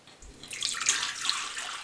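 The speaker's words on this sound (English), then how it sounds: "First, add in the water" Water poured into a large mixing bowl for bread dough makes a soft, steady splashing trickle that builds after a quiet start and runs on for under two seconds, with no voices.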